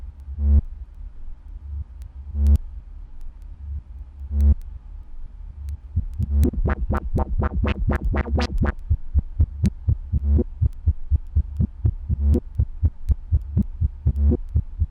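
A knobby drone synthesizer plays one voice as a low humming drone with a throbbing pulse, its beats sparse at first and then quickening into a steady rapid throb, alone and close.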